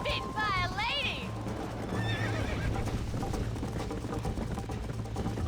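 Horse in Red Dead Redemption whinnying loudly at the start, then another neigh, over the steady clip-clop of galloping hooves close by.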